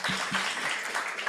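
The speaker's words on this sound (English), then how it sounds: "a round of applause" Audience applause at a closing plenary session, a short burst of dense clapping from many hands, fairly close and even throughout.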